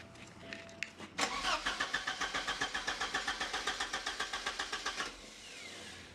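Porsche 944 engine cranking on a start attempt: after a couple of faint clicks, the starter churns in a fast, even rhythmic chug for about four seconds without catching, then stops, fairly close.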